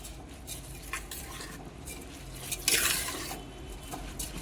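Rice is being mixed with masoor and moong dal in a pot, with quiet scraping and stirring strokes and a brief louder clatter of the spoon midway.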